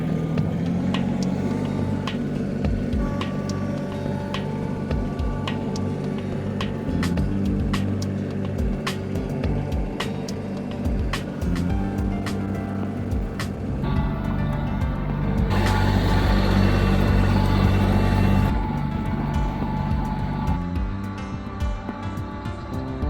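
Solis tractor engine running steadily while being driven, a continuous low rumble with scattered clicks and knocks, growing louder and rougher for a few seconds near the end.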